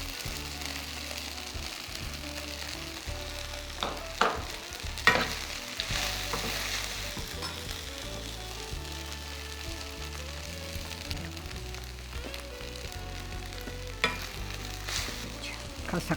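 Sabudana khichdi fries in a pan, made without onion or garlic, with a steady sizzle under repeated scraping and stirring of the spoon against the pan.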